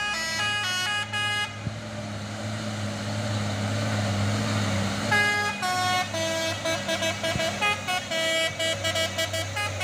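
Palm-oil trucks and other lorries on an Indonesian road sound long musical telolet horns, loud repeated melodic tooting in bursts over a continuous heavy diesel engine drone, with a clear break midway before another run of rapid horn notes.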